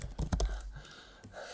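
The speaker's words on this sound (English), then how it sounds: "he's always typing his password in wrong the first time" Keys clatter on a computer keyboard as a password is typed, a quick cluster of close clicks followed by a few softer taps, with no voices.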